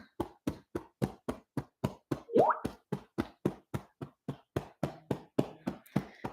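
A whole hand pats on the rib cage below the chest in EFT tapping, giving a steady run of about twenty soft, dull thumps, close and regular, with a short vocal sound in the middle.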